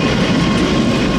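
An empty freight train rolls past close by, a steady loud rumble of wheels and cars throughout the brief moment, with no talk.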